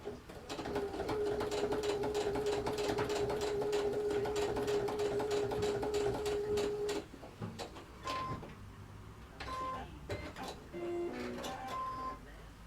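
A sewing machine runs steadily for several seconds with a rapid mechanical stitching rhythm through bulky fabric, then stops, followed by short bursts and clicks of handling.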